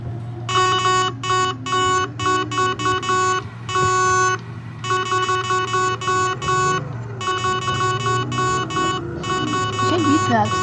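A bus horn in Roblox Transport Simulator blares in long and short repeated honks, loud and insistent, over a steady engine drone with some talk mixed in.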